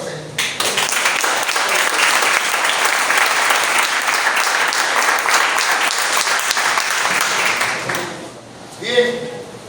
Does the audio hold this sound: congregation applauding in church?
yes